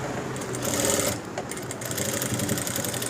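Up close, a sewing machine stitches a folded seam on a school uniform coat, running loud and continuous with a fast, even stitching rhythm throughout.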